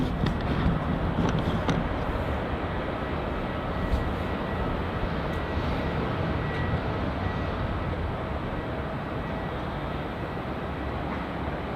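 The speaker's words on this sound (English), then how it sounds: "here comes that Scoot 787 landing on runway 34" A Scoot Boeing 787-9 Dreamliner lands on runway 34 at Melbourne Airport, giving a sustained, broad jet-engine roar that stays fairly steady and moderately distant throughout, with no voices over it.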